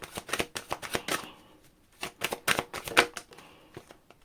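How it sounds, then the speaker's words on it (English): A deck of tarot cards is shuffled close up in quick crisp bursts of riffling and slapping, a flurry, a brief quiet gap, then another flurry, with no one speaking. "Let's shuffle again."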